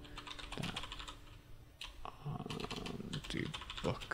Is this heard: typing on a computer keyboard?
yes